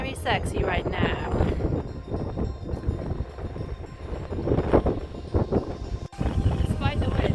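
Wind buffeting the microphone on a mountain near Tryfan in Snowdonia, North Wales, rumbling steadily and gusting throughout while a person talks over it.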